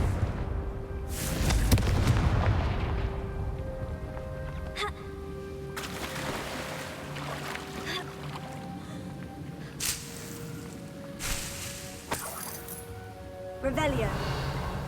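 Confringo, an explosive fire spell cast in the Hogwarts Legacy video game, bursts out with a deep boom followed by crackling and rumbling effects, then further sharp magical hits and swooshes over ambient game sound.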